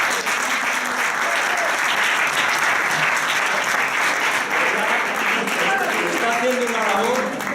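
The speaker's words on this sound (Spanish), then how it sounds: "pido un fuerte aplauso para él" Loud, sustained applause from an audience at a Carabanchel local history gathering fills the whole stretch, with voices chatting and calling out over the clapping.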